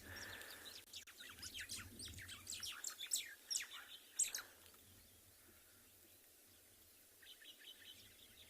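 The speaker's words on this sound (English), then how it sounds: "very, very chirpy little white-browed sparrow weavers that have started this morning, and a couple of wattled starlings calling in the background" White-browed sparrow weavers give rapid, busy chirping calls at sunrise in the Kalahari, with wattled starlings calling more faintly in the background; bursts of twittering come and go over a low steady hum.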